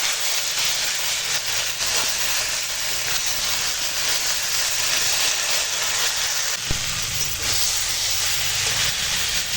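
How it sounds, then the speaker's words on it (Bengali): Vegetables are sautéed in a pan with salt, chilli powder and turmeric, producing a loud, continuous hissing sizzle with a brief knock partway through. "এবার মশলার সঙ্গে আনাজটা কষাবো"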